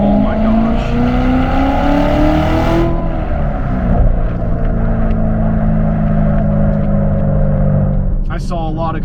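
A 2017 Corvette Z06 with a manual gearbox accelerates hard from inside the cabin, its loud engine rising in pitch, then downshifting with a sharp drop and continuing to rev and drone.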